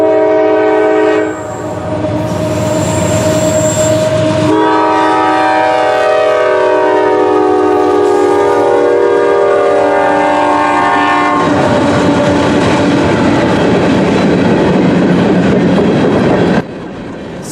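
A CSX freight train led by GE AC44CW locomotives rumbles past a road crossing close by with loud, sustained horn blasts, then steady wheel clatter and rolling noise as the cars go by.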